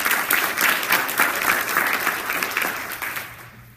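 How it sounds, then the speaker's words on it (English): An audience at an education conference talk claps for a student speaker, brisk and even applause that holds steady, then thins and fades out near the end. "Let's give her a round of applause"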